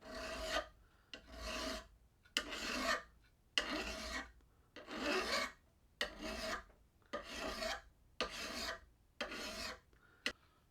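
A hand file strokes along a lawn mower blade edge to sharpen it, producing about nine steady rasping passes in an even back-and-forth rhythm, close and clear with no talk.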